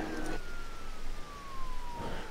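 A police car siren in a video game wails with a long falling tone, the vehicle's engine noise running underneath and two short bursts of louder crackle at the start and near the end.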